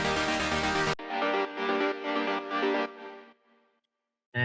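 Unprocessed saw-wave synth chord layer for emotional progressive house, a bright buzzy sustained chord pulsing in about four rhythmic stabs before fading into silence, heard alone and fairly close.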